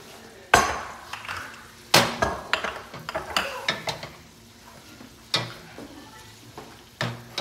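A spoon stirs Alfredo pasta in a pot, giving sharp scraping knocks and clatters in irregular bursts, close and fairly loud, with no voices.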